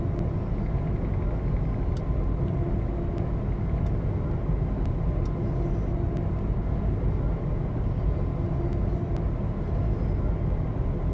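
Class 380 electric train in Train Sim World 5 running on the Cathcart Circle, Glasgow: a steady, even cab rumble with constant low-end drone and occasional faint clicks, no voices.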